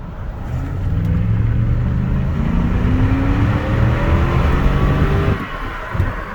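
A Cadillac car accelerates hard, its engine roaring loud and steady with rising pitch for several seconds before easing off near the end.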